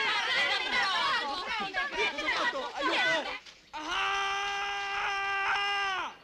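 Sustained high-pitched scream in a 1987 Italian comedy film scene, held for about two seconds after a stretch of excited overlapping voices, loud and close.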